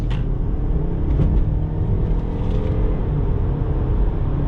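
Steady low engine rumble and road noise from inside a 2019 Land Rover Discovery Sport HSE as it accelerates, a continuous broadband drone held at an even level throughout.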